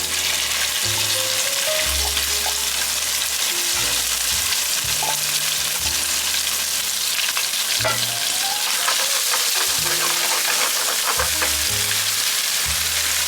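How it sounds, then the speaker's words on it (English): Ground meat sautés with garlic in a pan over a high flame while a tomato cream linguine is being made, keeping up a loud constant sizzle with scattered clicks of stirring. "It's the timing on the saute of ground meat."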